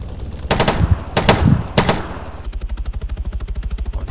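Gunfire in Arma 3 during a King of the Hill match: a few loud bursts of heavy shots give way to a steady, rapid automatic stream of rounds that keeps a fast, even rhythm to the end.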